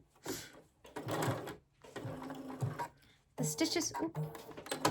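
Sewing machine stitching white felt for a penguin gift card holder, several close mechanical bursts of rapid stitching separated by short pauses.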